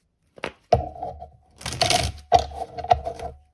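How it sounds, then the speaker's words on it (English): A tarot card deck is shuffled up close, with sharp crisp riffles and flicks in short bursts separated by brief pauses. "we'll do one last shuffle"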